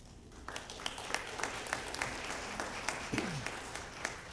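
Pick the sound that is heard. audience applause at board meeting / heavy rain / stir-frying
audience applause at board meeting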